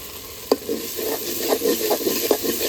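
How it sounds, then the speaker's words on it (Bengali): Tomato frying and being stirred in a pan, a steady close sizzle with soft scraping stirs and a sharp clink near the start, no voices. "এখন টমেটোটা ভালোভাবে কষিয়ে নেব।"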